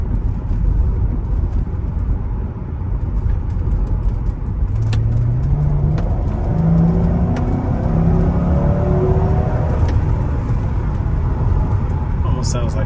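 Mercedes-Benz SL500 drivetrain heard while driving, a low continuous rumble with a whirring tone that rises and falls through the middle, under road noise and someone talking.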